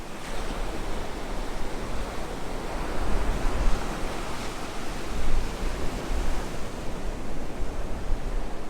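Ocean surf and gusty wind roll continuously along Myrtle Beach on a windy day with an incoming tide, a broad steady roar that swells louder around the middle, with no voices.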